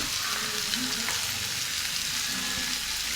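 Long beans with salt fry in a pan for a Kerala thoran, a steady dense sizzle with faint stirring scrapes underneath, close and continuous throughout.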